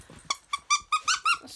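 A squeaky dog toy is squeezed in a quick series of five or six sharp, bright squeaks at an uneven rhythm, close and fairly quiet.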